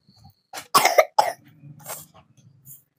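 A child coughs in a few sharp, close bursts with short pauses between, followed by softer throat sounds in a quiet room.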